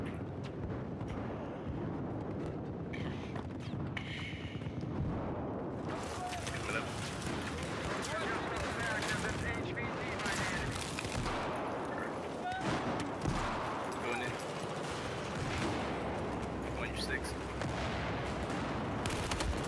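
Repeated gunfire in a first-person shooter video game, rapid bursts and scattered shots layered over a busy game mix, with a player talking over it at times.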